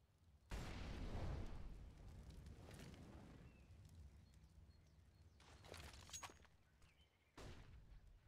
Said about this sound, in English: Nice nades coming in towards the bottom of Banana